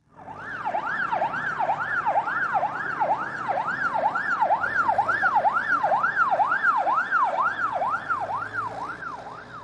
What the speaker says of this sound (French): Aux États-Unis, le son d'une ambulance est aigu.